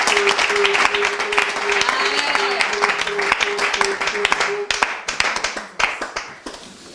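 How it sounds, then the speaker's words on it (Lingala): A church congregation claps and applauds in a dense, steady burst that thins toward the end into scattered individual claps, with a voice speaking over the start. "Acclamez pour le choix."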